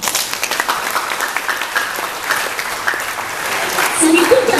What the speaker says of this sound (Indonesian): Tepuk tangan dulu untuk kita yang pernah gagal.